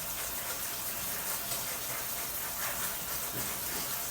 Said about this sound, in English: So if I go on and rinse these off and get some of that liquid out of there,